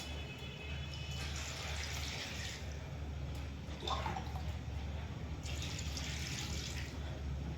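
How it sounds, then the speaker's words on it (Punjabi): Water is poured into a cooking pot holding chopped onions and crushed garlic, a steady close splashing fill that swells in two louder bursts, with no one speaking. "ਇਹਦੇ ਵਿੱਚ ਨਾ ਮੈਂ ਪਾਣੀ ਪਾਵਾਂਗੀ"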